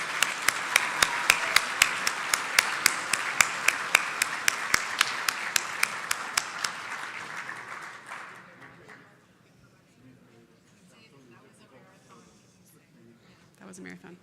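A meeting crowd at an annual general meeting gives a round of applause, loud and steady clapping that fades after about eight seconds into quiet room noise with faint voices.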